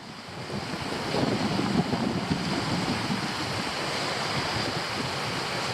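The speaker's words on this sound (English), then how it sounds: "Fucking windy, tell you what" Strong wind at Lake Bala roars and buffets the microphone continuously while pike fishing, a dense rushing noise with gusts swelling in the first couple of seconds, no voices.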